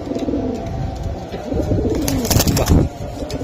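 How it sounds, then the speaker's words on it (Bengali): Giribaz pigeons, a male and a female, coo close by in low, throaty, rolling phrases, with a louder burst of fluttering and cooing near the end and no talk. "এই যে নর আর মাদি, এটা কি জাতের কবুতর তারেক ভাই?"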